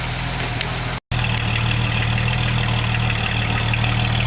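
A Jeep Wagoneer XJ project vehicle idles steadily after a cold start on old, stale fuel, its low engine drone loud and continuous, broken only by a split-second dropout.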